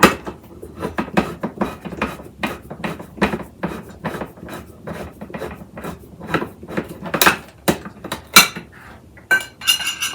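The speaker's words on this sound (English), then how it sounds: "I'm gonna open our can of diced green chilies." Kitchen clatter while a 4-ounce can of diced green chilies is opened for salsa: a busy run of sharp metallic clicks, clinks and knocks, irregular and close, with brief pauses between bursts and no talking.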